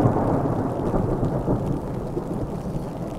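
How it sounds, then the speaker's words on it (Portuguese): Thunder rolls as a storm passes over an American World War II cemetery in Normandy, a loud continuous low rumble with rain hiss layered over it and no speech. "Opa, mais raios e trovões, hein, por aí."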